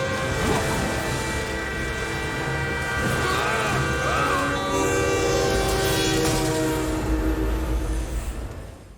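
Train horn from the 1997 film Switchback sounds in long sustained tones over the steady rumble of rolling rail cars, loud and continuous throughout, with faint speech-like sounds mixed in.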